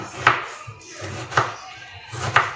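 Three crisp knife strokes cut through a halved tomato onto a cutting board, each a sharp, close thunk spaced about a second apart, with a quiet pause between them.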